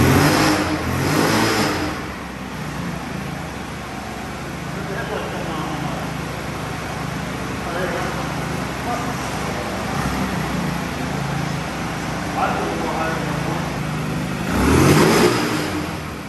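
A pit bike engine, just back together after a carburetor cleaning, runs and revs in surges with a loud buzzing drone and higher bursts near the start and end, while a voice talks over it.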